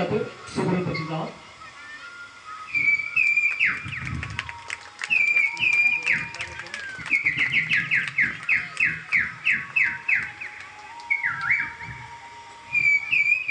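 A male mimic imitates the song of a baya weaver bird with a close, loud run of quick rising whistles and chirps after some brief vocal sounds, the trills repeating steadily toward the end.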